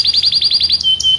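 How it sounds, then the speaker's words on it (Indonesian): Canary singing, a fast run of bright, evenly spaced high chirps followed by a couple of longer clear whistled notes, close and loud with no talk. "burung canary sebenarnya"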